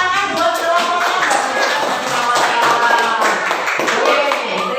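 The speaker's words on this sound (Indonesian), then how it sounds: "Kita kasih tepuk tangan buat kelompoknya" A class claps together for a group of students, brisk rhythmic hand claps from a roomful of children, close and steady, with faint voices mixed in.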